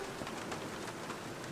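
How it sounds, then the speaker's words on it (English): Rain falls steadily in the Black Mirror video game, a soft and even hiss of drops with scattered faint patters and no voices. "What a better way to spend a rainy day."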